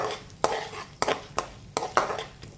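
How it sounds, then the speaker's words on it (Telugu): Cabbage potato curry with chana and urad dal being stirred in a pan: five or six distinct clanks and scrapes of a spoon against metal in a steady rhythm, close and fairly loud. "ఇప్పుడు ఒకసారి కలుపుకోండి"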